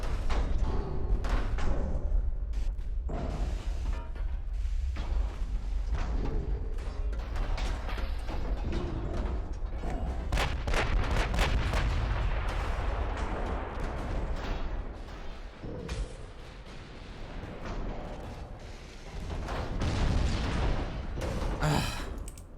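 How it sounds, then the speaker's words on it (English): Battleship guns fire and secondary turrets explode in the naval combat game Ultimate Admiral: Dreadnoughts. Heavy booms and thuds pile up into a dense, continuous barrage with a brief lull before another swell. "The secondary turrets exploding like that, I think, is really what killed me here."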